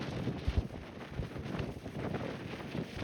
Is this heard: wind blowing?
yes